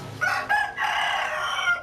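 A rooster crows close by in one full, loud cock-a-doodle-doo, a rising bright opening note stretching into a long sustained call.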